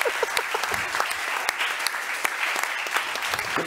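A German football show's studio audience applauds steadily for about four seconds, a dense crackle of many hands clapping with a few sharper individual claps standing out, and no talking over it.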